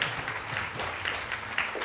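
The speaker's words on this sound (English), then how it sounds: "Please give them a round of applause." Audience applause for a junior insurance-awareness quiz team at a grand finale, a steady wash of many hands clapping at moderate level, fairly even throughout with no voices standing out.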